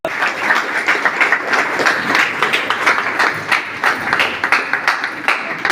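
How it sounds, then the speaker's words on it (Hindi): An audience at a company event in India applauds in a loud, sustained burst of dense, crackling clapping. "केशवती जी के लिए ताली बजा।"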